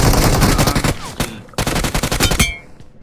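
Rapid automatic gunfire in the mobile shooter BGMI rattles in loud, close bursts of fast repeated shots, with brief pauses between volleys and a quieter tail at the end.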